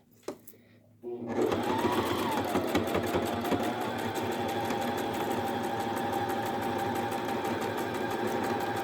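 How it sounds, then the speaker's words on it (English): A sewing machine stitching a pillow case starts after a second of quiet, then runs as a steady fast mechanical whir with rapid needle ticks, close and continuous, while a person speaks over it. "just going to go ahead and start sewing here."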